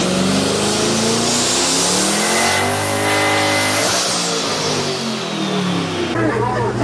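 Twin turbo 5.0 Coyote Mustang with nitrous on a dyno pull, a loud close engine climbing steadily in pitch through the gears for several seconds, then cutting off sharply, with voices over it.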